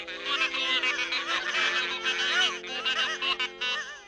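Loud, overlapping honks with a nasal, bending pitch, like several geese calling together close by in a raucous chorus.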